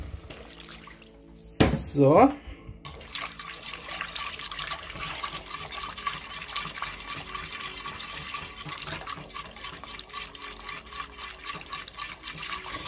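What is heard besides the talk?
water poured into the pierogi filling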